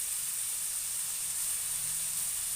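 Crushed ginger and garlic fry with softened onions in hot oil for an egg drop curry, giving a steady, bright, close sizzling hiss throughout with no pauses.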